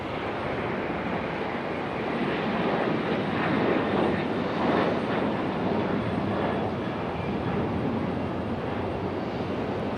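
A Delta Boeing 737 airliner at Raleigh-Durham airport makes a continuous heavy jet engine roar that peaks near the middle and stays loud throughout, with no talk.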